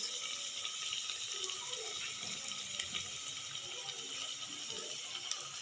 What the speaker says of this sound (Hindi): अब ऑयल मेरा हिट हो गया है। अब इसमें डालते हैं बिस्किट।